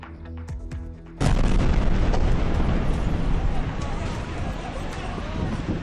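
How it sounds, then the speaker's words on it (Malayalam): Explosions and gunfire in Gaza in news footage: a quieter opening with faint thuds, then a sudden loud broadband blast at about 1.2 seconds that gives way to sustained rumbling, crackling noise until the end. "വെടിയൊച്ച നിലയ്ക്കാതെ ഗാസ."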